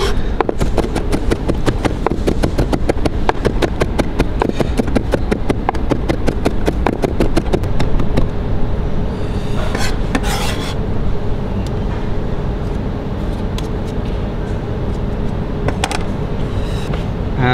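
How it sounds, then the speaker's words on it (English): A knife rapidly chops thin strips of lemongrass on a cutting board, a dense run of quick, close taps over steady background hiss that slows and thins out in the second half. "we can just put a hand on top of the knife and just chop them up so they're nice and thin"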